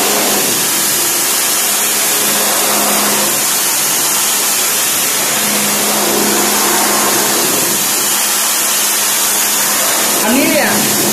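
A pressure washer pump runs steadily throughout as it sprays water to clean an air conditioner coil, a loud continuous motorized hiss and drone with no pauses.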